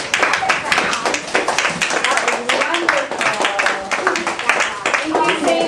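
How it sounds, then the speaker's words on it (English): Audience applause for visitors at a Sinterklaas event, dense steady clapping from many hands filling the whole stretch, close and fairly loud. "Can we give our visitors and William a big round of applause?"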